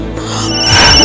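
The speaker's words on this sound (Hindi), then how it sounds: "मम्मी तुम्हारे फोन वागे छे।" A mobile phone rings in a home, a brief loud electronic ringtone swelling and brightening over about a second.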